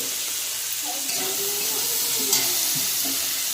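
Mixed vegetables frying in oil in a karahi for a Bengali veg dal, a steady broadband sizzle running unbroken throughout, with faint occasional stirring scrapes and no talking.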